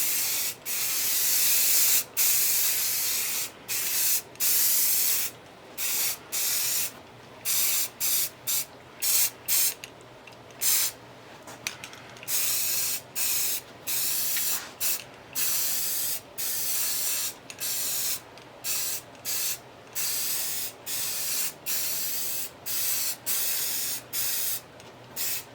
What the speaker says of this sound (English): when I spray these, finish the lid off, I try and spray directly down on it.